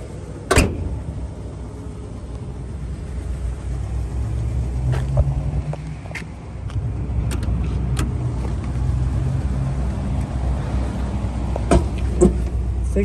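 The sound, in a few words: 1961 Chevrolet Impala engine running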